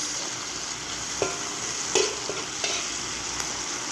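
Chicken and tomato being stirred and sautéed in a pan, with a soft sizzle running underneath and a few sharp utensil scrapes and taps at irregular moments.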